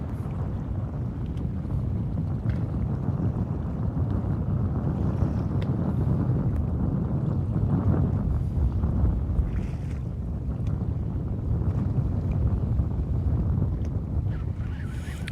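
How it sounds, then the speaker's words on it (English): Strong wind buffets the microphone outdoors on the water during bass fishing, a steady loud roar of gusts with no talking. "Or maybe the wind is crazy and that's why."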